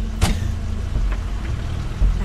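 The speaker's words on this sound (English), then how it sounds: "That's Crane's car." Car arriving in the video game The Wolf Among Us: a steady low engine rumble with a brief louder swell near the start, heard alone at moderate level.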